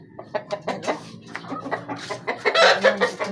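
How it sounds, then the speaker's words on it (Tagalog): A flock of chickens clucks and squawks excitedly, close and loud, with rapid overlapping calls that swell into a busier burst of cackling near the end. "nagwawala na ang mga manok dito"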